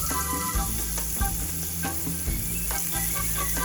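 Butter sizzles steadily in a pan over a lowered flame while caramel is being made, a continuous close frying crackle with a few brief stirring bumps and no talk.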